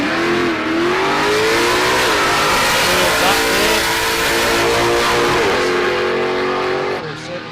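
Ronnie Johnson's drag race car roars loudly down the strip at the South Coast 2k Street Challenge 2022, its engine revving hard and rising in pitch before easing off near the end.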